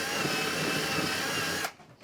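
A power drill bores a hole through a cedar door piece during a front door makeover, a steady close whirring grind lasting most of the moment before cutting off abruptly near the end.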